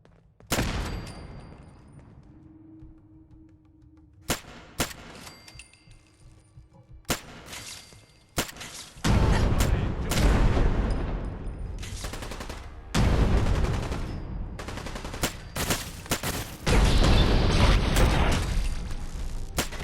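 Gunfire in the video game Fallout 4, played in survival mode at Nuka World: sharp single shots and rapid bursts crack out in clusters, and the shooting grows louder and denser in the second half with booming impacts.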